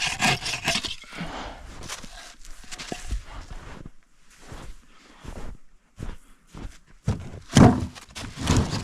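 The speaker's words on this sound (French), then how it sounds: "je l'aime pas mal, ma nouvelle scie Boreal 21" A Boreal 21 folding hand saw cuts wood at a lakeside winter hot-tent camp, giving bursts of rasping, rubbing strokes with short pauses and a few thunks, close and moderately loud.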